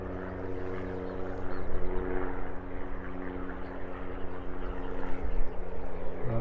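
A skydiving plane passes over a rural country park, its propeller engine a steady droning hum heard from outdoors, rising and falling slightly in loudness as it crosses, with no one speaking.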